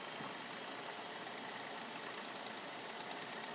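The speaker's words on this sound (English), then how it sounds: "I'm going to stop the motor now." A DC motor runs steadily at 15 volts in a university lab machine experiment, giving a continuous, even whirring hum at close range with no talking over it.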